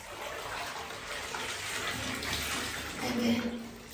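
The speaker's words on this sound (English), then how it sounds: "So you wanna rinse it until the water is clear" Running water pours steadily while a curly wig is rinsed in a tub or sink, a continuous close gushing that swells slightly near the end.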